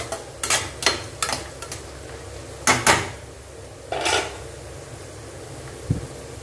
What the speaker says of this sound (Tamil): காய்கறி நல்லா வதங்கட்டுங்க